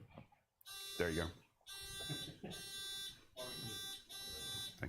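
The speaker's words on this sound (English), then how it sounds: "Let's do a buzzer check." Quiz buzzers at a Bible Bowl championship being tested, several long, harsh electronic buzzes sounding one after another with short gaps, with a voice heard briefly between the first tones.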